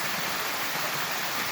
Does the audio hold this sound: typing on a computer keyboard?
no